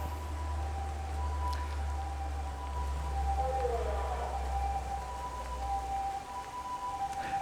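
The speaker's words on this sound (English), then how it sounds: "Nobody gets out of the way for ambulances in Japan." An ambulance siren wails in the distance in Japan with steady tones that wobble midway, heard over rain and a low rumble of traffic.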